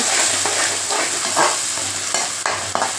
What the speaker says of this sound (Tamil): இதை நல்லா வதங்கட்டாங்க ஒரு ரெண்டு நிமிஷம் அப்படியே இந்த எண்ணெயிலே நல்லா வதங்கட்டும்